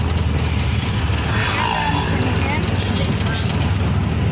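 An auto-rickshaw ride gives a constant close engine drone and road rumble, steady and fairly loud, with people talking over it.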